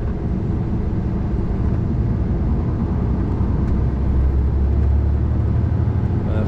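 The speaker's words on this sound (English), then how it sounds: "a lot of diverted traffic up this way as well." Steady road noise of a car driving along a busy road with diverted traffic, a continuous low engine and tyre rumble throughout with no talking.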